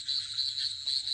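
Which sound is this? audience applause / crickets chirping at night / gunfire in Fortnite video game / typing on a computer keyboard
crickets chirping at night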